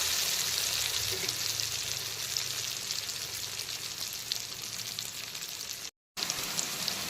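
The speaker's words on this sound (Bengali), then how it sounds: "হলুদ মাখানো আলুগুলোকে খুব ভালো করে ডুবো তেলে ভেজে তুলে নিতে হবে" Turmeric-coated potato pieces deep-frying in hot oil, a steady loud sizzle and crackle that runs evenly and alone, broken only by a brief dropout near the end.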